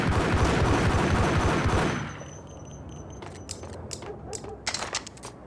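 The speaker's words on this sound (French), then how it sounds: "Il me tire dessus." Dense, loud gunfire in the Max Payne video game rattles in a rapid continuous burst for about two seconds, then gives way to quieter scattered shots and clicks.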